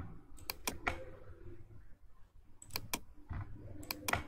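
Keys tapped on a computer keyboard to enter a two-day duration in critical path scheduling software: three short bursts of crisp, close clicks separated by pauses, over a low room hum.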